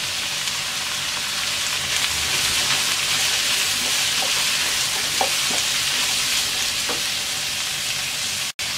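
Diced papaya sizzles steadily in oil in a pan while being stirred, with a continuous close frying hiss and occasional soft scrapes, no voices.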